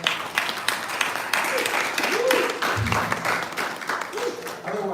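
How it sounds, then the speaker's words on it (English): A small audience in a decorated city hall hosting a Yoga Day event breaks into steady, close applause that lasts throughout, with a voice speaking over the clapping. "Round of applause to them,"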